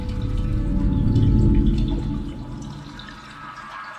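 Steady rushing water from a waterfall in the video game Sisyphus Reborn, a broad low roar that swells and then eases slightly, heard alone without talk.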